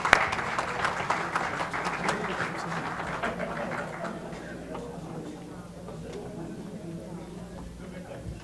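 Audience at an international Urdu mushaira applauds, dense clapping that is loudest at the start and gradually thins and fades out, with a voice speaking over it.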